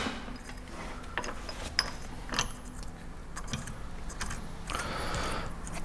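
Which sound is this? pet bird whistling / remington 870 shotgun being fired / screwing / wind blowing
screwing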